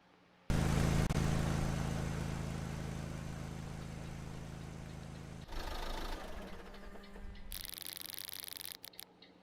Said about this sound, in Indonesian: Apa mobil bunyi? Mobil gue bunyi.